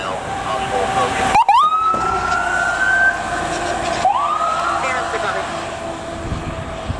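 A Dover, New Hampshire fire department ambulance responds to a call, its siren winding up twice with loud rising wails up close, with horn-like blasts and dispatch radio talk audible alongside.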